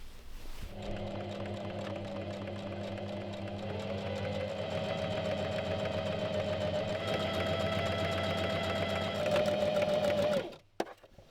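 A sewing machine finishes the seam allowance on a beginner robe, humming steadily and close for about ten seconds with a slight pitch change partway, then stopping abruptly near the end.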